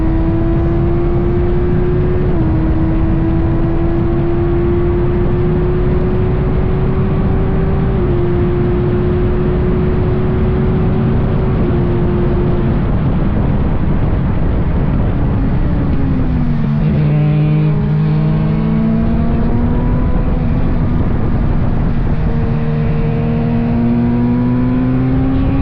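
Formula Mazda race cars scream along in close company, one engine's steady high whine stepping through gear changes before a second car closes in and several engine notes overlap as they brake and downshift into a turn, loud and continuous with no talk.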